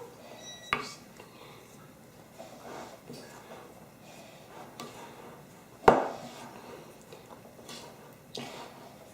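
A spoon stirring milk into soul cake mixture in a bowl, soft scraping with two sharp clinks of spoon against the dish, the louder one midway, in a quiet kitchen.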